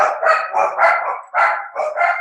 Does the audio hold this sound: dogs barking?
yes